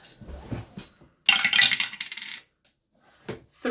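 Dice rolled onto a hard surface, a bright rattling clatter lasting about a second, close and clear, with soft handling noises before and after and no talk.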